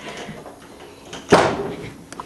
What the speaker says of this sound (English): Oh, there goes the door.